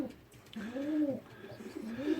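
Rare-colour racing pigeons coo in a loft with nesting youngsters, several soft rolling coos close by against a quiet background.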